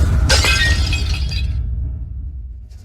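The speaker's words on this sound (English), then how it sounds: "What you just smashed. That was a state-gifted, special reserve liquor." A glass bottle of special reserve liquor smashes loudly and close, a burst of shattering glass followed by a fading tinkle of falling shards, with no talk over it.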